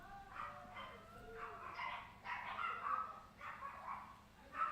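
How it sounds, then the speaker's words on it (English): Several dogs bark and yip in a scattered, repeated pattern from some distance indoors, faint and muffled with a low background hum, no talk over them. "The dogs have decided to let them be known that they are here."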